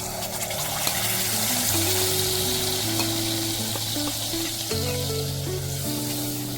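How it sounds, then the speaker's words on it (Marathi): A curd mixture sizzles steadily in a hot tempering of cumin seeds and asafoetida for a dahi papad curry, a continuous close hiss with soft stirring and faint tones underneath. "फोडणी तडतडली की आपण त्याच्यात आता हे दह्याचं मिश्रण घालायचं आपलं."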